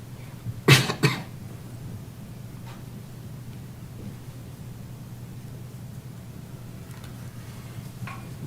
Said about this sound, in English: I'm sorry, Rose, you walked away, I was coughing.